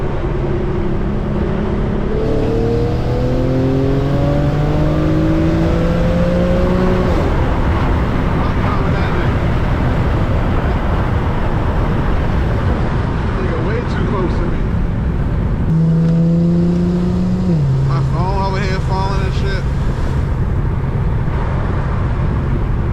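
A rear-wheel-drive Infiniti G37 accelerates hard on a backroad, its engine climbing in pitch through two rising pulls with a gear change, loud and close over road noise, with someone talking over it.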